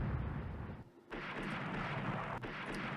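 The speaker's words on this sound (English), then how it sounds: "We're hitting it with 14-inch guns." In the naval game Rule the Waves, 14-inch guns fire in heavy booming salvos, a few deep blasts rolling over a constant rumble of battle.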